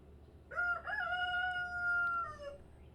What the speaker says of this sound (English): I truly apologize about the rooster here, guys.